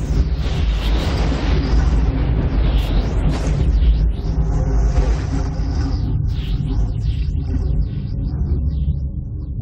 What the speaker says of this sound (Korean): 휘몰아치는 이 구름은 뇌우를 일으킵니다